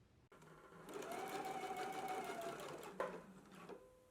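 A sewing machine runs in one steady burst, basting the folded tab of an apron closed, its fast even whir clear and close before a small clunk near the end as it stops.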